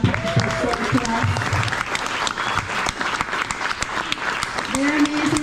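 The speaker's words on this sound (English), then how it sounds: "Can we please give one more round of applause to Les and Olga for opening up their stories to us?" An audience at a storytelling event applauds Les and Olga, loud, dense clapping close by that carries on steadily for several seconds, with cheers and voices mixed in.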